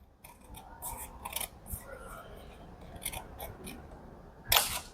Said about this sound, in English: I'm going to take my scissors now and cut the circle into half.